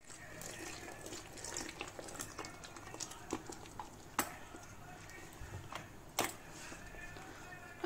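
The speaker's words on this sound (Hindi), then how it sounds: "हमने इसके अंदर 2 चम्मच पानी और ऐड करा है।" Water stirred into a gram flour (besan) batter for arbi leaf patod, a wet sloshing and mixing sound with irregular soft splashes and a couple of sharp clinks, close and fairly quiet, without talk.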